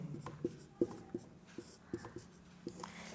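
Pen writing on paper, a series of short scratchy strokes and taps in an irregular rhythm, close and quiet.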